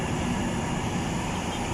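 An MRT-3 train passes Kamuning station in Manila as a steady, loud low rumble of rail wheels and motors that holds evenly throughout, with no voices.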